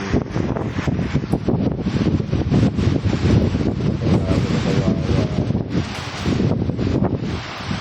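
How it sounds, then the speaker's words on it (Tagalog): Strong seaside wind with big waves roars and buffets the microphone continuously, loud and gusty, while a voice briefly speaks under it. "Malakas si hangin."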